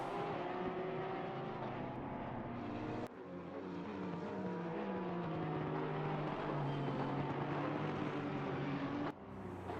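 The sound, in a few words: Country Club Racing Porsche GT3 race car on track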